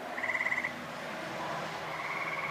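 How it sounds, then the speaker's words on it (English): Tree frogs call at night near a front porch, a quick pulsing trill rising at the start and a steadier trill returning near the end, moderately close over a constant hum of background night noise. "I really enjoy sitting out on the front porch and listening to the tree frogs"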